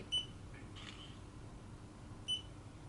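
Two short, quiet electronic beeps from a 2015 Yi Action Camera shutter, spaced about two seconds apart, with a faint soft click between them over low background hiss.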